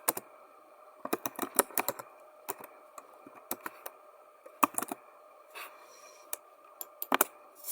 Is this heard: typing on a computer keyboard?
yes